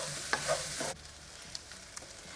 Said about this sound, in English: I'm going to add in the potatoes now. And then I'm going to cook this on medium heat